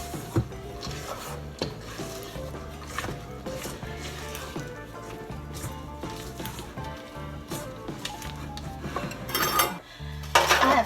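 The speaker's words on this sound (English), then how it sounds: "And now I just want to fold in a cup of walnuts." A cup of walnuts is folded into zucchini bread batter in a home kitchen, giving soft scraping and rubbing strokes of a utensil against a bowl, with light clinks, close and irregular throughout.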